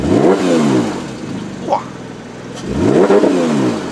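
A 2015 Porsche 911 GT3 RS with a naturally aspirated 4.0-litre engine blips its revs twice, each loud rise and fall separated by a short quieter stretch, with a brief exclamation from a person between them.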